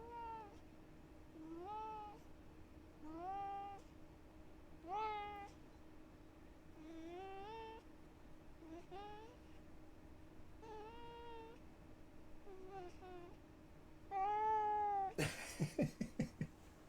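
A cat meows repeatedly at a slow, uneven pace, about a dozen drawn-out rising cries at moderate distance, followed by a burst of louder noise and sharp knocks near the end.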